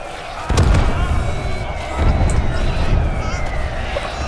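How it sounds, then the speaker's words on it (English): Explosions in the World War I battle game Gates of Hell, with sharp nearby blasts followed by rumbling and shrapnel debris over a constant battlefield roar, while a voice talks over the din. "That's a lot of explosions!"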